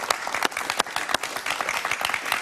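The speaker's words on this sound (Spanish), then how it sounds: "Un aplauso para José Antonio Colina." Studio audience applause on a Spanish-language talk show, dense steady clapping from a full crowd, loud and close, running continuously without any talk over it.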